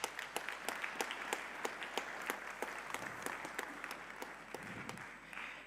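A crowd applauds steadily, with dense clapping sustained for several seconds in a large room at a United Nations General Assembly first ladies' high-level dialogue.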